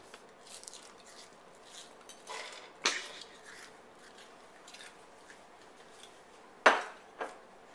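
Onions cooking in oil in a pan, stirred with a spoon: faint sizzle underneath with scattered scraping and a few sharp clinks of the spoon against the pan.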